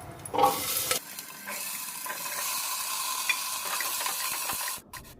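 A brief clatter as potatoes drop into hot oil with asafoetida and green chillies, then a steady close sizzle of frying that continues until it cuts off near the end.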